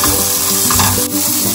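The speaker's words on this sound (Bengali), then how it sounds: "হালকা একটু কিছুক্ষণের জন্য এটা ভেজে নেবো আর কি" Potatoes fry in a pan with salt and turmeric, giving a loud, close, continuous sizzle with occasional stirring scrapes.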